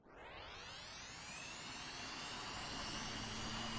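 The auxiliary power unit of an EF-24G jet in the VTOL VR flight game spins up with a rising whine over a steady roar, loud and close in the cockpit, building without pause.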